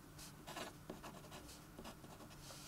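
Pen or marker writing symbols by hand on a surface, a steady run of short scratchy strokes repeating in quick rhythm, close and fairly faint, with no talk.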